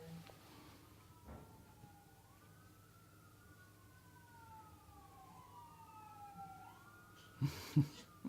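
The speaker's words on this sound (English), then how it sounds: "We're holding for a siren." A distant ambulance siren wails with rising and falling tones over low background rumble, ending with a couple of louder thumps nearby.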